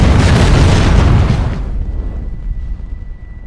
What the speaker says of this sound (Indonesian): mobil ambulan itu meledak